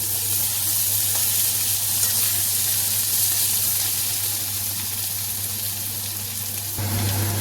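Steady, close hiss of potatoes frying in oil, a continuous sizzle with no voices.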